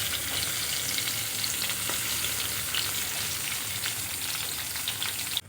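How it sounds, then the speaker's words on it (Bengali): Pieces of pointed gourd (potol) frying in a pan, a steady, close hiss of oil sizzling without pause, with faint stirring scrapes under the continuous crackle. "সবগুলো একসাথে হবে না, হাফগুলো ভেজে নেব।"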